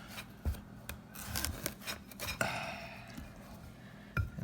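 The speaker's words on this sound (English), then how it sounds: "Gotta cut it in half." A knife works through a raw spaghetti squash, making close scraping, rasping strokes with a few sharp clicks and thuds as the blade cuts the hard rind, heard alone without talk.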